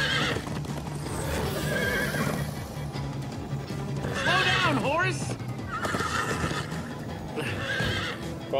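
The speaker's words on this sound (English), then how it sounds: "Slow down, horse!" A horse in the Minecraft Story Mode video game whinnies in repeated high, wavering cries over the quick clip-clop of galloping hooves, while characters talk loudly over the noise.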